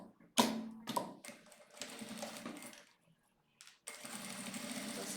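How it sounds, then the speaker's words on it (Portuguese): Sewing machine stitching along the edge of a handmade wallet, heard in several short bursts of mechanical whirring separated by brief pauses, fairly quiet and close. "E daí eu vou passar a costura agora bem nessa bordinha."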